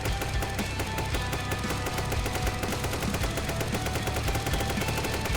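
A Gatling gun in a video game fires one continuous rapid burst of dense, loud rattling shots that hold steady from start to finish, with no voices over it.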